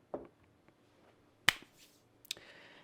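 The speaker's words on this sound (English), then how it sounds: "I clapped my hands just now, by the way, because I saw a fly in midair and I was trying to catch it." A couple of sharp, close hand claps at a fly in a quiet room, short isolated cracks with a softer tap before them and near silence in between.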